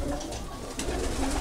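Racing pigeons cooing in a loft during a pigeon-fancying gathering, a soft continuous murmur of coos under steady background noise.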